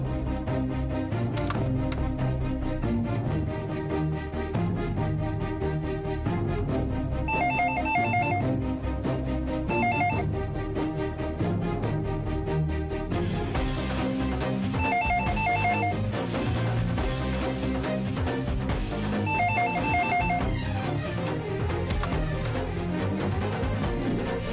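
A telephone rings out over and over in a steady, loud repeating ring pattern on an outgoing call, with no talk over it.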